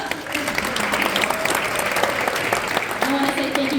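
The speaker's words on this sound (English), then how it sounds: "I want to give a round of applause for all of you showing up." An audience at a press conference for Oakland's new police chief applauds, a dense, steady clatter of many hands clapping close by for several seconds.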